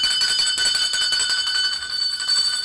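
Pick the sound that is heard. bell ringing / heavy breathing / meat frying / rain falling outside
bell ringing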